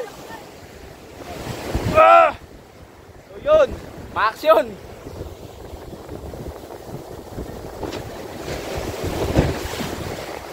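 Large open-sea waves surge and wash around a small boat off Barangay Tubtob, Brooke's Point, Palawan, with steady wind noise across the microphone and short bursts of speech above the churning water.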